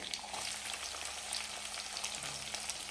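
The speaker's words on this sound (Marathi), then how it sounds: "आता हे छान असं परतून घ्यायचं आहे आपल्याला कांदा दोन ते तीन मिनिटासाठी" Onion and green chilli pieces sauté in a pan for a Marathi bean curry, making a soft, steady sizzle and frying hiss that stays low and even throughout.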